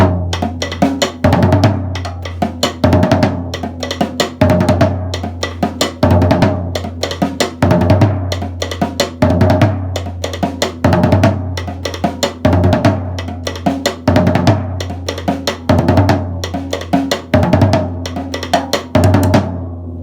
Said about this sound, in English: between the floor tom and the rim on the snare drum and the head of the snare drum